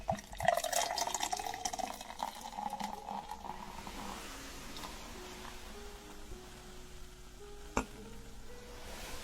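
Spicy ginger beer poured into a cocktail glass at a late-night bar counter, a close, soft fizzing and trickling pour that settles into a steady carbonated sizzle, with quiet clinks.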